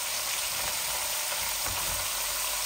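Vegetables, including flat beans, a small cauliflower and a potato, fry in a pan with a steady, loud sizzle throughout and no talk over it.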